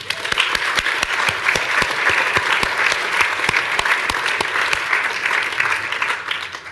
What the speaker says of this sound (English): I'd like you all to take a moment now to give each other and yourselves a round of applause